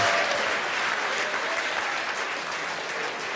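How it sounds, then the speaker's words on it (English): Steady, dense applause from a crowd of employees at SpaceX headquarters in Hawthorne, California, sustained and fairly loud with no break, cheering mixed into the clapping. "you hear the applause here from SpaceX headquarters in Hawthorne, California"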